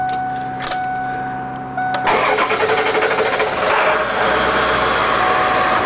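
A Ford E450 van bus with a 7.3 diesel cranks and fires at about two seconds, then settles into a loud, steady, clattering diesel idle close by.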